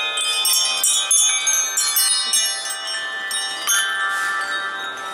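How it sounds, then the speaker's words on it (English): Wind chimes ring in a store display of many chimes, including gigantic ones, with overlapping sustained metallic tones and repeated strikes, bright and close. "Got all kinds of wind chimes here."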